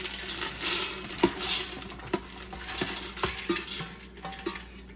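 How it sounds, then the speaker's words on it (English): Dried black-eyed peas poured into a metal Instant Pot, a rattling cascade of small hard beans with scattered clicks and taps, fairly close and quiet, with no talking. "So now we're gonna add the beans"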